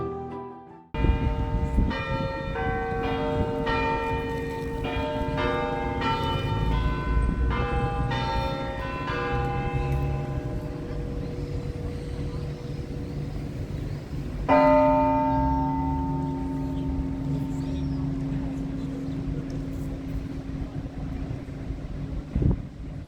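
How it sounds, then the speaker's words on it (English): St. Paul's Cathedral bells in Dunedin, New Zealand, ring out a sequence of chimes, then a single deep bell strikes one o'clock and rings on, with distant traffic hum underneath. "The Octagon has the St. Paul Cathedral, and listen here as it chimes for 1 o'clock"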